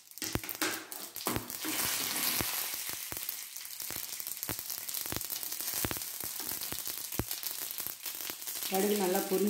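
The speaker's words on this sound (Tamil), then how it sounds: "கடுகு நல்லா பொரிஞ்சிடுச்சு." Mustard seeds spluttering in a spoonful of hot oil in a heated pan while tempering pirandai chutney: close, irregular sharp pops and crackles over a steady sizzle throughout.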